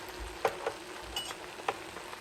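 Shallots, garlic and bay leaves sizzle softly in a pan for French onion soup with short ribs, a low steady hiss broken by a few brief stirring clicks, quiet and close.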